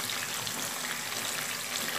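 Salted, turmeric-rubbed bata fish frying in hot oil over a low flame, giving a continuous, even crackling sizzle with no speech.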